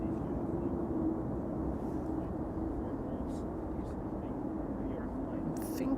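A fixed-wing airliner on approach to Amsterdam Schiphol Airport produces a steady, broad engine rumble that holds evenly throughout, fairly distant and unbroken.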